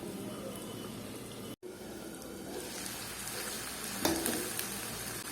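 Masala-coated fish fries under a lid in a pan, giving a continuous low sizzle and crackling hiss with a brief clink near the end.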